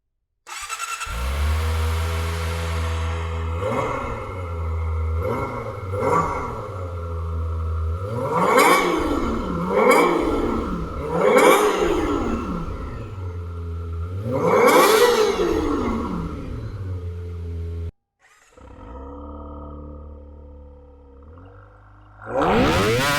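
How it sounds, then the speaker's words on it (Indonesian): A Kawasaki Ninja ZX-25R SE ABS with a 250cc four-cylinder engine idles loudly up close, then is revved in repeated sharp rising and falling blips before cutting off briefly and settling back to idle, with no talk. "Nanti kita akan dengerin sama-sama bagaimana suara dari mesin 250 cc 4 silinder dari ZX25R ini."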